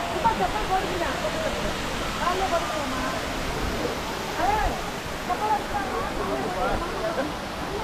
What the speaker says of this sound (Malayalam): അത്രയും ഹൈറ്റിൽ നിന്നാണ് വെള്ളം വരുന്നത്.